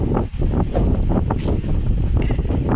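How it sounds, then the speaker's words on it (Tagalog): Outdoor wind buffets the microphone in loud, continuous gusts during a walk to a farm, with rumbling low noise throughout and no talking. "Sarap ng hangin."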